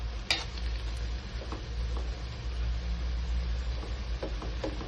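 A ladle stirs food sautéing in a pan while cooking lumpiang Shanghai, a steady sizzle with occasional scraping and clinking strokes of the ladle against the pan, close and without talk.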